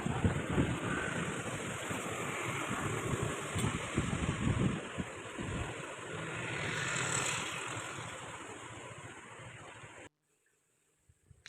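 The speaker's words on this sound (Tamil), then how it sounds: "இந்த ஆறு தான் நம்ம வயலுக்கும் பக்கத்தில் ஓடுற குட்டி ஆறு" A small river used for farm irrigation rushes steadily with wind buffeting the microphone, loud and continuous, then the sound drops away abruptly near the end.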